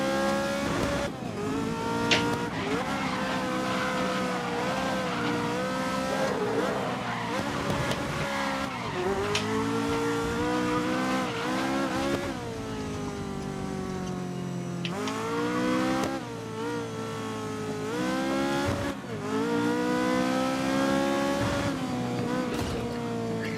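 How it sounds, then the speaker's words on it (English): A Ferrari 330 P4 racing in the Grid video game runs at full throttle in third gear, the engine wailing through repeated rising and falling rev sweeps with shifts and tyre squeal, loud and continuous. "So that's full throttle third gear"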